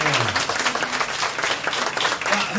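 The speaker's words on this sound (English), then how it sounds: "Let's give Stephanie Jane a big round of applause, all right?" An audience at a Dallas gospel showcase gives a loud, dense round of applause, continuous and close throughout with no talk.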